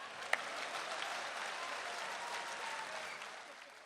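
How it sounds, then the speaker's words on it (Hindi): An audience at a Dubai poetry recital hosted by Kumar Vishwas claps steadily. Dense applause holds for almost four seconds, with one sharp, close clap near the start before the applause thins out at the end. "ताली तो जोर से बजा दो।"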